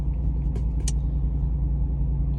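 Low, steady engine rumble of a pickup truck driving, with a couple of brief higher clicks partway through.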